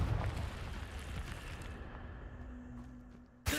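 Confringo spell blast in Hogwarts Legacy: a low rumbling fiery burst that fades over a few seconds, followed by a sharp new impact at the end.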